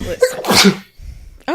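One sharp, close sneeze bursts out at full loudness between brief bits of speech.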